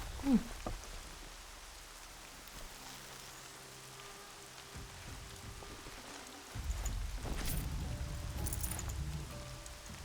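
Faint, steady rainfall hisses in the background of a video game, Horizon Zero Dawn, growing denser and louder for the last few seconds, with no voices present.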